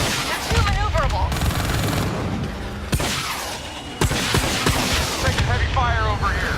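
Heavy gunfire in Call of Duty: Black Ops 3, dense bursts of automatic fire and booming blasts over a chaotic battle, loud and close, with voices talking over it.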